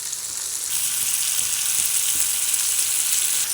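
Tomatoes with a pinch of salt fry in a pan as part of an egg curry, giving a steady, close sizzle with faint stirring taps and no voices throughout.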